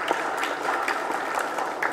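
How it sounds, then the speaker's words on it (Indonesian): Steady, dense applause from a church wedding congregation right after a couple is blessed as husband and wife, loud and continuous throughout with no talking. "Kita tepuk tangan sekali lagi."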